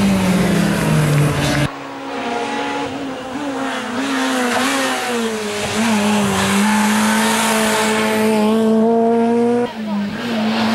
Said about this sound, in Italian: ha sempre un bel sound quest'auto